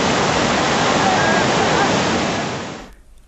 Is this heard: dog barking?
no